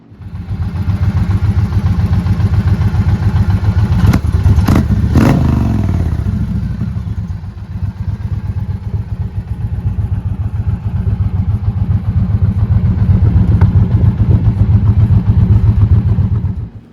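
An Indian Challenger motorcycle engine running close by with a steady, loud throbbing idle and a brief sharp rev in the middle, then continuing to rumble evenly.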